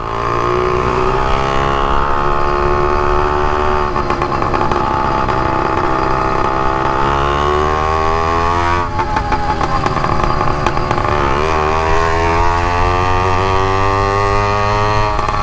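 A motorized bicycle on a 29-inch-rim frame, fitted with a bare straight-pipe exhaust, runs loud and close. Its buzzy engine note holds steady and then swells and dips with throttle changes.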